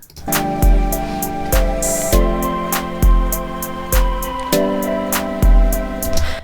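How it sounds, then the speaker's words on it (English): Heavy 808 kick bass in an Ableton beat thumps low and booming on a steady pulse, layered with crisp drum hits and sustained tonal synth parts in a looping electronic groove, no voices. "it's just that like heavy 808 kick sound"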